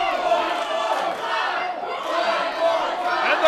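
A wrestling crowd at an independent show roars and chants without a break, a dense wall of voices that swells slightly toward the end.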